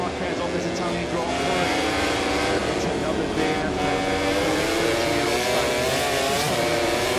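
MotoGP racing motorcycles at the Mugello Italian Grand Prix drone steadily at high revs, a continuous loud engine roar under constant race commentary.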